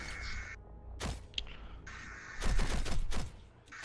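Shotgun fire in a fast online shooter game, with several sharp blasts in quick bursts amid crackling battle noise, some shots layered close together, and no voices over the gunfire.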